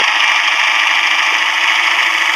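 Steady, loud engine drone of a bus in Indian Bus Simulator, a smooth continuous hum with no changes in pitch and no speech over it.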